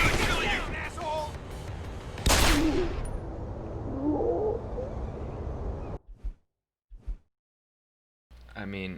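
Gunfire in the video game Deus Ex: Human Revolution, a loud sharp blast followed by sustained noisy firing with voices shouting underneath, then the sound cuts off into near silence broken by brief thumps before resuming.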